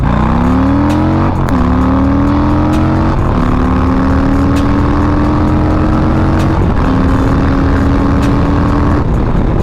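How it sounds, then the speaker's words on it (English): A Harley-Davidson Low Rider S motorcycle accelerates hard, its engine climbing steeply in pitch through each gear to redline, with four or five distinct shift breaks, loud and close throughout. "We're gonna do a pull from 30 miles an hour in first gear. We're gonna redline every shift."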